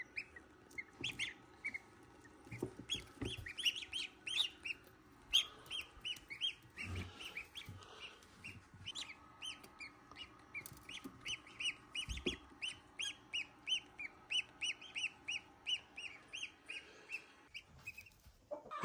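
Goslings on a farm peep in rapid, high, repeated chirps, with a few deeper goose-like honks early on, fairly faint and close, no talking.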